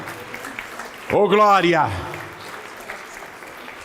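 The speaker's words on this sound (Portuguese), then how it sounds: "vamos aplaudir ao nome do Senhor" A church congregation applauds during a service, a steady wash of clapping behind an exclaiming voice that swells in the middle before the applause continues more softly.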